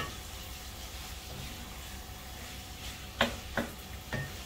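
Mughlai chicken handi sizzles softly as it is sautéed in a pot, a faint steady frying hiss with a few short spoon scrapes and knocks toward the end.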